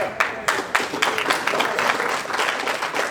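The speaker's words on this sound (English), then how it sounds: "So you guys be loud, woo, cheer, just support these guys" A wrestling student showcase crowd applauds and cheers steadily, with clustered claps and whoops rising and falling through the room at a moderate, continuous level.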